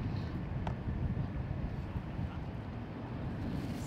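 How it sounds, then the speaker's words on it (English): Steady wind buffeting the microphone, a low rumbling roar that persists throughout with no voices. "It's windy."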